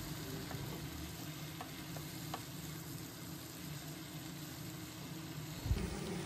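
Spiced boiled jackfruit being stirred in a frying pan, a steady low sizzle with soft scraping strokes and a faint knock near the end, continuous and close with no talking.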